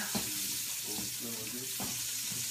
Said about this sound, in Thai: เอากระเทียมลงไปเจียวนะคะกับพริกขี้หนูทุบนะคะ